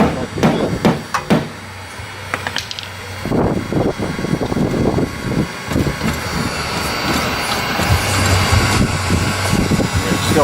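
A hammer strikes the fender of a Lexus LS400 while the fenders are being rolled, giving several sharp metallic knocks early on, followed by a busy, noisy background with people talking.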